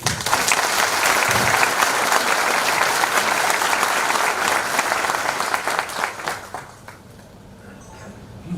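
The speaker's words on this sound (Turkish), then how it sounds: "Onlardan da Allah razı olsun bir alkış rica ediyorum." A large audience at a university rectorate handover ceremony claps loudly and steadily for several seconds, then the applause tapers off and fades to quiet.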